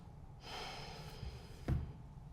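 A deep exhale during a yoga forward fold, heard as a soft, breathy rush of air that lasts about two seconds, followed by a brief muffled thump near the end.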